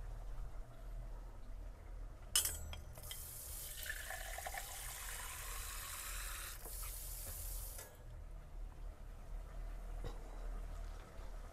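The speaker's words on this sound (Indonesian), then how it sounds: "Aku mau tambah air dulu." Water runs from a tap in a steady stream for about five seconds, then stops, while beef cooks in a pot. Low background hum and a few faint knocks surround it, and no one speaks.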